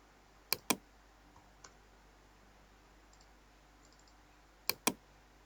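A computer keyboard is used while drafting in AutoCAD: two quick pairs of sharp, close key clicks, separated by a few seconds of near silence and one faint tap.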